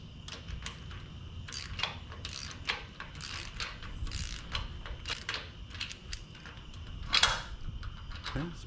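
Close ratcheting and clicking from tightening the tension nut on a new boat trailer coupler latch, a run of quick metallic clicks and creaks, fairly loud with a sharp burst near the end.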